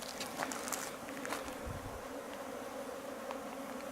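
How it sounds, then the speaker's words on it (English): Native stingless bees, dark with a bit of yellow, buzzing in the Blue Mountains bush; faint, close buzzing that rises and fades as individual insects pass, over a quiet outdoor background. "there's plenty of flies around here. Actually, they're not flies, they're actually native bees."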